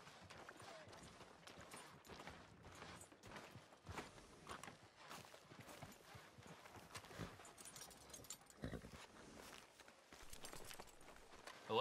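Horse hooves clip-clop steadily on a town street in Red Dead Redemption 2, a continuous walking rhythm heard up close with quiet ambient game sound behind.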